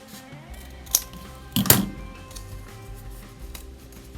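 Scissors cutting across folded paper for an origami corner bookmark, a quick snip followed by a longer crunchy cut, close by in an otherwise quiet room.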